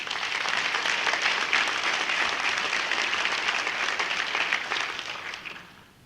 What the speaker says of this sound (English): let's give a big round of applause for the 2014 Charlie Burkhart Scholarship recipient